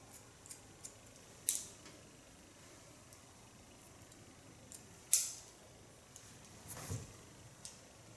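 Scissors snipping hair during a haircut, three crisp separate cuts spaced apart over near silence, close and fairly quiet.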